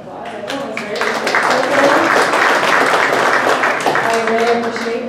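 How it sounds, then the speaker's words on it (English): Attendees at a community meeting give a round of applause, a dense burst of clapping that swells and holds for several seconds while voices speak and cheer over it. "Give yourselves a round of applause."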